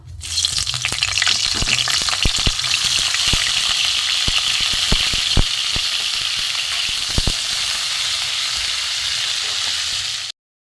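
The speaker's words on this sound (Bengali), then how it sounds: "গ্যাস কমিয়ে কমিয়ে আমি ফুলকপিগুলো একটু ভেজে নেবো" Cauliflower florets frying in hot oil in a kadai over low gas, with a steady, close and loud sizzle throughout, broken by scattered sharp pops and crackles.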